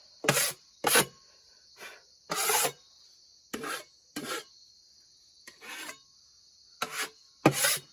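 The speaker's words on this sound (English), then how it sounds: "I'm going to clean out the sawdust." Sawdust is cleared out of a freshly sawn wooden tenon in about ten short, separate scraping and rasping strokes, close and fairly loud, with silence between them.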